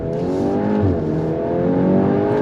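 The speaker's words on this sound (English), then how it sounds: "Well, let's go on throttle from a dead stop." A 2026 VW Golf R Mk 8.5 launching hard from a standstill, its engine note rising steadily and loudly with clear climbing harmonics and a slight dip partway through as revs build, heard from inside the car.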